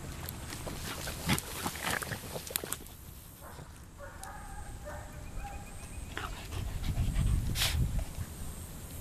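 A small dog panting close by in a quick, breathy rhythm, with some clatter and a brief whine. Nobody speaks.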